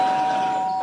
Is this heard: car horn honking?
no